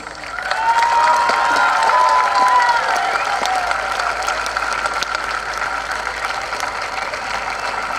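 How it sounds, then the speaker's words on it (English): A crowd at a Louth senior football final presentation claps and cheers in a loud, sustained round of applause that swells within the first second and then holds steady, with some faint voices mixed in. "I think it's a big round of applause to Monagh Spice people."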